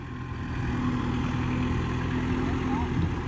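A Kubota MU4902 tractor engine runs steadily nearby, a continuous low idling drone with an even hum throughout.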